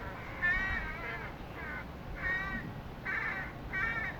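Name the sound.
bird calling outside, crow-like caws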